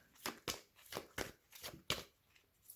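Tarot or oracle cards are shuffled for a reading in a quick series of about eight crisp riffling snaps, close and fairly quiet with no voice.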